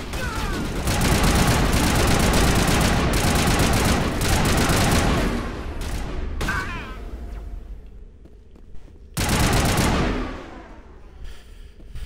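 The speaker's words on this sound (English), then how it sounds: "Those explosive rounds like overheat my fucking assault rifle almost instantly." Rapid assault rifle fire with explosive rounds in Mass Effect, loud sustained bursts for about five seconds, then sparse single shots and quiet gaps before a final short loud burst, with faint ambient game sound between.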